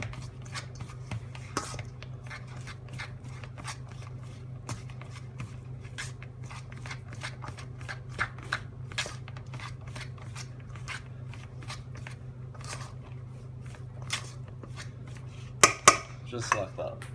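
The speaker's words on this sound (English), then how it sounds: "Now just using a fork, all we want to do is crush and blend it all together." A fork crushing and mashing feta cheese in a bowl, giving many quick clicks and scrapes of metal against the dish in an irregular rhythm, close and quiet over a faint steady hum, with no talk.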